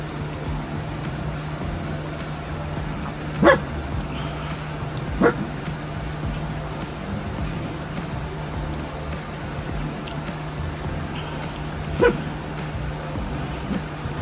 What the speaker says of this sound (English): barking at the mean old nasty cardinals that flew by, the squirrel, and she thought she heard a dog